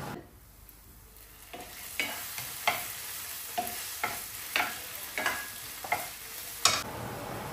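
Chicken searing in a pan with onions and ginger-garlic paste, sizzling steadily while a spatula scrapes and taps roughly once a second, with a quieter start before the frying noise rises. No voices.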